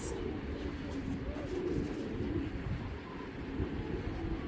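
Female racing pigeon of the Stephen Dongkat line cooing in low, continuous murmuring tones close by, with steady soft loft noise around it and no talking.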